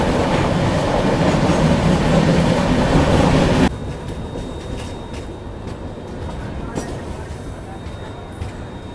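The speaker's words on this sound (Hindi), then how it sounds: "तो कुछ ऐसे व्यू आपको देखने को मिलते हैं और वो भी ट्रैक साउंड भी ज़बरदस्त।" Mandovi Express rolling on the tracks out of Mumbai, a loud steady rumble with rhythmic clickety-clack that drops to a quieter, even run partway through, with a faint squeal near the end.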